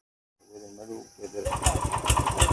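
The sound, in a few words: tractor engine starting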